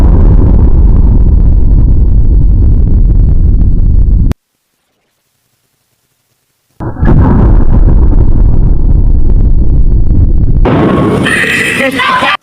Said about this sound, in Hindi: तो सबसे पहले ट्राई करेंगे हम छोटे सूतली बम को।